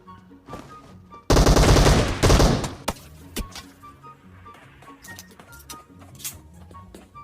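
Automatic gunfire from the mobile shooter PUBG Mobile rattles out in a loud, dense burst lasting about a second and a half, followed by scattered single shots and faint clatter.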